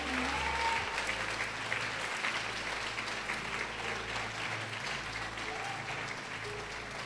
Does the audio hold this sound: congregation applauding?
yes